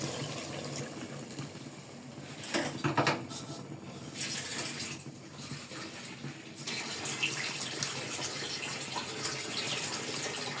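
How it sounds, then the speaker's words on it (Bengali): Water is poured into a pot of beef curry cooked with split chickpeas, a close, steady splashing gush with a few clinks of the pot, continuing without speech. "পানিগুলো দিয়ে দিব।"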